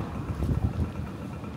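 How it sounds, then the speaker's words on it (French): Wind buffets an outdoor microphone in a construction-heavy neighbourhood in Saudi Arabia, a dense low rumble that swells and dips for a brief moment with no voice over it. "J'espère que vous allez m'entendre avec le vent."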